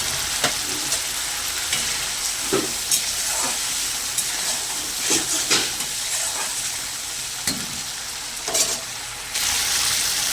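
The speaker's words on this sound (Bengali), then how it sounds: "মশলাটা খুব ভালো করে কষানো হয়ে গেছে, তেলও ছেড়ে দিয়েছে।" Spice masala cooked down in oil for a kalbose fish curry, a loud, dense sizzle with regular sharp scrapes of a spatula stirring the pan close up.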